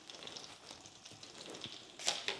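A crab cake made with stovetop stuffing fries in melted butter in a pan, giving a faint, steady sizzle with a few brighter crackles near the end.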